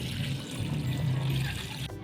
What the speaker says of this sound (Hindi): और हल्का सा इसे पानी लगा दें ताकि ये अच्छी तरह से यकजान हो जाए